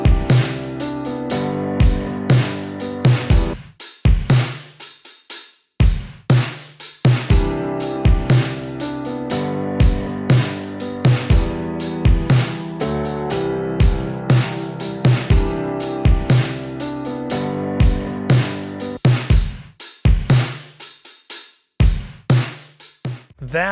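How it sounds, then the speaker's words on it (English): Big, punchy drum kit recorded in a living room and mixed with piano, loud kick and snare hits landing in a steady groove over sustained piano chords, no talking. "that is how I took these drums, recorded in my living room, and made them sound like this"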